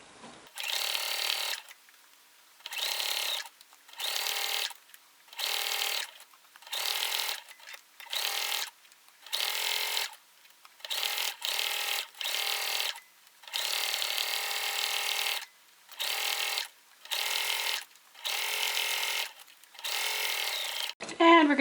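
A sewing machine stitches through thick, layered tote bag fabric in repeated bursts of a second or two, with short pauses between runs and a clicking mechanical rhythm, close and clear.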